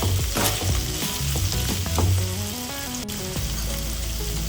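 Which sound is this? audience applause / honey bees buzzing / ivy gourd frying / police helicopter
ivy gourd frying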